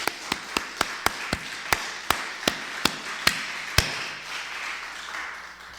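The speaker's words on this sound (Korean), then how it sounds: "우리 승리의 박수를 하나님께 올려드립시다" Sharp single hand claps from a church congregation during a Korean Easter Sunday service, about a dozen crisp slaps at an uneven, slowing pace, fairly close, fading into a quiet room.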